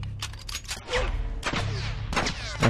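Gunfire in The Last of Us aimed at a companion character: several loud bursts of shots separated by short gaps, with sharp cracks and ringing tails over low game ambience.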